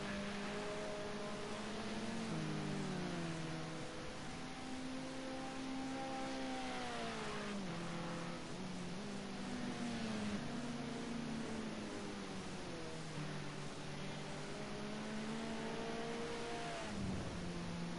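Touring race cars lap a circuit in a racing video game, their engines droning and whining continuously as the pitch rises and falls through gear changes. The sound is steady and fairly close, with no talk.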